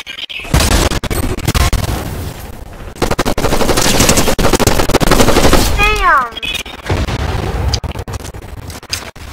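Rapid bursts of gunfire crackle loudly and almost continuously from a game, dense and chaotic, with a voice speaking over the shooting.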